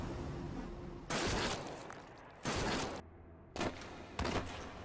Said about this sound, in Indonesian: Wanita itu justru menembak Ju-hun tanpa ragu.